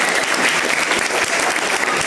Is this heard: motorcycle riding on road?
no